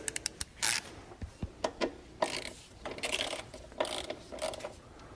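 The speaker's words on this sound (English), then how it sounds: "So I'll now take my ratchet" A hand ratchet tightening throttle body bolts into a plastic intake manifold, with quick clicking pawl bursts followed by several longer ratcheting runs, close and clear with no talking.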